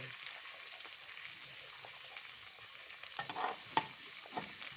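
Beaten egg frying into an omelette in a hot pan gives a faint, steady sizzle with a few small pops near the end.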